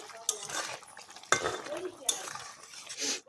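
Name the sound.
stirring vegetarian fish curry in a pan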